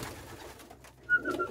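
Homing pigeons coo inside a pigeon loft, a soft low murmur with a brighter call near the end, moderately close and alone without talk.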